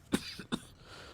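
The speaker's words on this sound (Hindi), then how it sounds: "कितना खांसते हो?" Two quick, close coughs from a man, sharp bursts about half a second apart, loud and alone in a quiet room.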